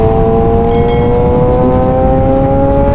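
A foreign motorcycle accelerates hard, its engine pitch climbing steadily in a loud, continuous rising whine, close by.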